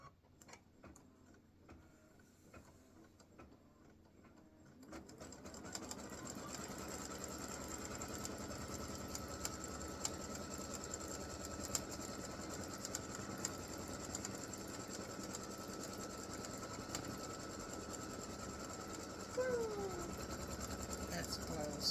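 Embroidery machine sewing the tack-down stitch of a Christmas gnome applique, a steady close mechanical whirr that starts after a few seconds of quiet handling and runs on continuously.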